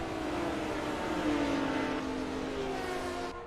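Small Porsche race cars in a racing sim at Watkins Glen, engines droning steadily and loud together through turn 1, with a rising pitch as they accelerate over a dense pack of car noise.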